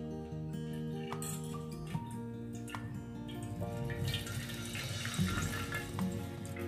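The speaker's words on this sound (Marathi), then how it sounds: "याला पुन्हा एकदा गाळून घेते" Water pours and trickles as fresh chhena for rasmalai is strained in a kitchen, a steady running flow with small drips and splashes, fairly close and alone.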